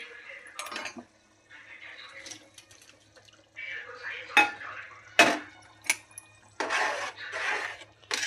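Cooking a tomato curry gravy with fried paneer in a pan: sharp clinks of a metal spoon against the vessel and scraping stirs, with soft sizzling and bubbling between the clatter, close and fairly quiet.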